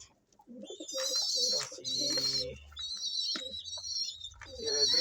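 Pigeons coo in low, soft repeated phrases close by, with high bird chirps mixed in and faint talk in the background.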